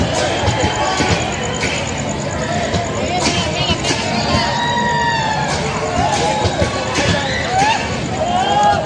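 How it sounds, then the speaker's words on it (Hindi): Dense crowd noise at a busy train station packed with people heading to the Katihar fair, with constant babble, shouting voices and thumps of movement throughout, close and loud. "बहुत सारा यहाँ पे लोग है, काफी भीड़ है।"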